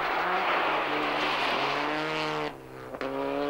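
A Lancia rally car in the Swedish Rally, its engine loud and close, revving and rising through gears with a brief lift and gear change near the end.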